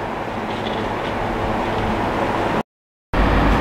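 A diesel passenger train on the 0808 service up to Newcastle in North East England gives a steady, broad rumble with a faint hum. It cuts out briefly near the end, then resumes louder and closer.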